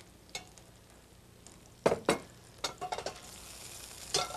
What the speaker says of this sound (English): you want that butter to bubble and sizzle